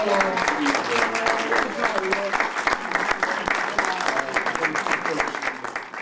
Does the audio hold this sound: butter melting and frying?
no